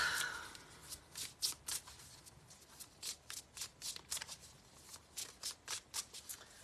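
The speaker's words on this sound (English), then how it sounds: "Billy Joe, let's get a card for you" Tarot cards being shuffled by hand, a quick series of about a dozen crisp riffling bursts in a steady rhythm, close and fairly quiet with no talking.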